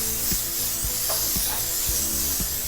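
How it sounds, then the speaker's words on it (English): Non-stick cooking spray hissing into a bread pan for banana bread, a steady close sizzling spray lasting a few seconds with faint light clicks, no talking. "then get your cooking spray. Now this is a non-stick spray"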